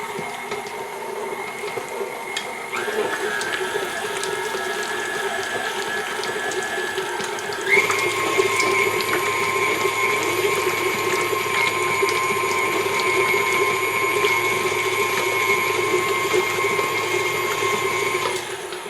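An electric mixer whirs through New York cheesecake batter with a close, steady motor tone whose pitch steps up twice as the speed rises, and runs continuously without any talk.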